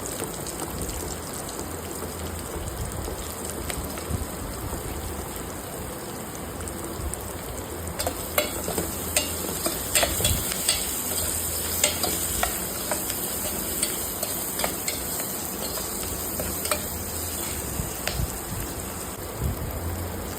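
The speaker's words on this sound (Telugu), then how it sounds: "ఉల్లిపాయ వేగంగా వేగడానికి వేసుకొని చెప్తాను కదా, కొంచెం సాల్ట్ వేసుకోవాలి." Onion frying with curry leaves and garlic for a raw banana and tomato curry, a steady close sizzle with intermittent scraping and stirring clicks building in the latter half, no voices.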